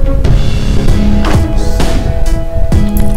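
Upbeat electronic music plays loudly and continuously, with punchy beats and a sweep every second or so, a round-win music kit jingle in CS:GO competitive.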